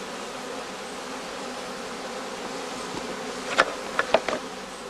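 Honeybees at a heather skep apiary buzz continuously in a steady, close drone, with a few sharper clicks and taps near the end; no voices.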